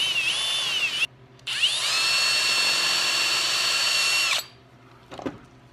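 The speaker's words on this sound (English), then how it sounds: "The challenging part about drilling these rivets out is that they tend to spin on you" Power drill whining as it bores out rivets on a Fox Body Mustang dome light: a steady high-pitched spin that stops briefly, starts again and runs for a few seconds, followed by a short clatter.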